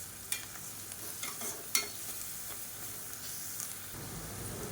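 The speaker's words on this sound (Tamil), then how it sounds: "இந்த ஸ்டேஜில் நம்ம அரைச்சி வச்சுருக்க அந்த பூண்டு சேர்த்துக்கலாம். சேர்த்துட்டு இதையும் நல்லா வதக்கிக்கலாம்." Ground garlic sautéing with onions in a pan for chicken curry, a quiet hiss with a few sharp scrapes and stirring knocks, no voices.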